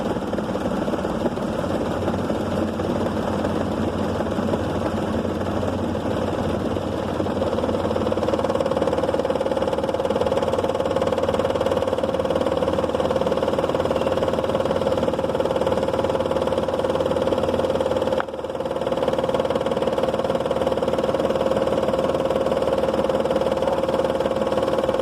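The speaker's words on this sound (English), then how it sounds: "Engine of my car is now in start state" Suzuki car engine idling steadily with a constant low hum and faint mechanical vibration, a brief dip partway through, no talking.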